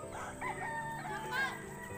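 Hens clucking close by, a few bursts of throaty calls, one rising sharply near the end, over a faint steady background hum.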